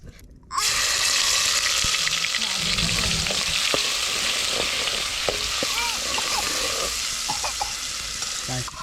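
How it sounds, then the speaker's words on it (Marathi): Ground coconut, onion and garlic spice paste fries in hot oil, a loud steady sizzle starting abruptly after a brief quiet moment and continuing with crackles and faint stirring clinks, outdoors by a riverside. "आता तेल तापलंय आता वाटण टाकूया"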